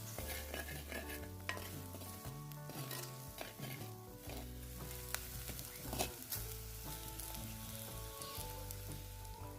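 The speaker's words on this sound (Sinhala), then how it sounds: "ඒ ටික දාගත්තන් පස්සේ ආයෙත් අපි සාමාන්‍ය ගින්දරේ මේ ටික හොඳින් කලවම් කර ගන්න ඕන" Egg curry with chili, turmeric and salt powders sizzles quietly in a pan over a moderate flame while a spoon stirs and scrapes through it, with steady tonal notes running underneath.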